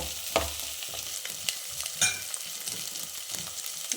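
Green chillies fry in a pan for a broad bean biryani, giving a constant close sizzle broken by a few soft clinks and scrapes of stirring, with no talking.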